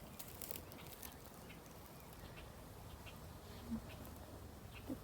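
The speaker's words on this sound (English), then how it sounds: "Both hives have bees flying in and out, so that's good." A faint, steady buzz of insects hums outdoors for several seconds, with soft wind-like background noise and a couple of brief louder buzzes passing close.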